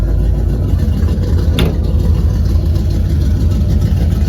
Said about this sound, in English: Truck fires right up, runs good.